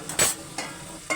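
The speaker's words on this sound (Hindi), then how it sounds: "यहाँ पे देखिए मैंने टमाटर डाल दिए हैं छोकने में और ये थोड़े सॉफ्ट हो जाएंगे" Tomatoes tossed into hot tempering oil in a pan give three short bursts of sizzle and stirring, close and clear, spaced about half a second apart with no talking.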